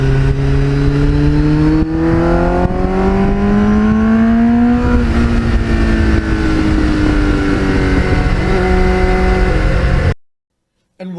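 GPX750R motorcycle engine through an aftermarket Muzzy muffler, loud and close, droning and revving with rising and falling pitch as it accelerates on an open ride, wind buffeting throughout, cutting out abruptly near the end.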